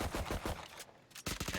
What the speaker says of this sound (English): some gunfire getting traded through a smoke